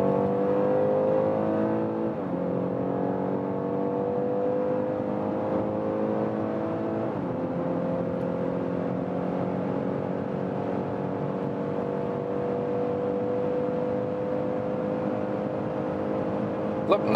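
2021 BMW X3 xDrive 30e plug-in hybrid SUV accelerating from about 100 km/h at high speed, a muffled, steady engine drone inside the cabin rising through two gear shifts, with light road rumble and no talk.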